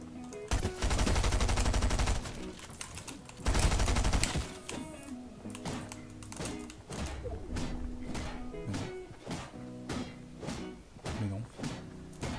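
Rapid bursts of submachine gun fire in Fortnite, dense rattling volleys up close followed by a string of sharper individual shots and impacts amid game sounds.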